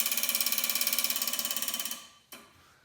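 A fast, regular clatter of nitrous solenoids pulsing open on a 150-shot NX Maximizer setup runs for about two seconds, then cuts out, followed by a single sharp click and a fading tail.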